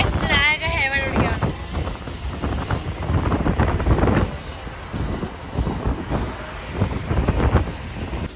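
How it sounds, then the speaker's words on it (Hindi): Strong wind buffets the microphone outdoors with loud, gusty rumbling throughout, while a person talks underneath the roar. "अब यहाँ पे बहुत तेज हवा चल रही है"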